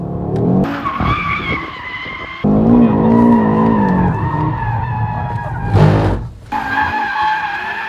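A 2022 Audi RS3 drifting in its drift mode, tires squealing in long sustained skids over a revving engine, loud and close, with pauses and shifts in pitch as the car slides.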